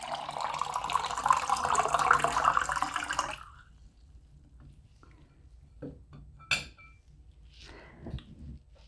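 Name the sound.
pouring cold beverage from drink dispenser into cup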